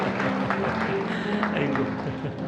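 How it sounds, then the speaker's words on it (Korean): A church congregation applauds during a Sunday service welcoming a baptized child, a dense wash of clapping mixed with voices and what sounds like music in the background. "자, 우리 한번 다시 한번 뜨거운 박수로 환영해 주시기 바랍니다."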